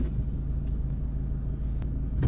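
A car pulls away from a stop in first gear as the clutch is released, with a steady low engine rumble that holds even and close throughout.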